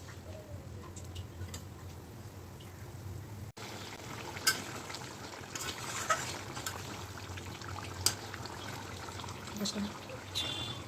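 Katla fish curry simmers in a pot, a faint, low bubbling with occasional soft pops and liquid trickles close by.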